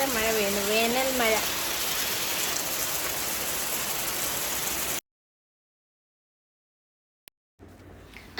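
Heavy summer rain falls as a dense, continuous hiss for about five seconds under a voice, then cuts to silence before the noise briefly returns.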